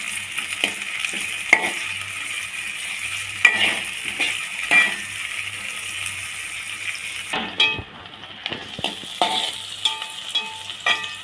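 Onions sizzling in hot oil while a utensil stirs them, scraping and clinking against the pan in scattered strokes, close up.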